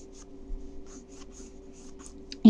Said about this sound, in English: I am just very, very lightly sketching in a head